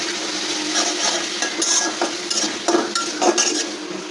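Shrimp frying in a pan with ground turmeric, coriander and cumin, a steady close sizzle with occasional clinks and scrapes of a utensil stirring, no voices.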